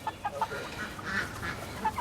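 Chickens raised as meat birds, just moved out onto grass, cluck and chirp in short, soft bursts while scratching and pecking nearby, with a faint outdoor background and no talking.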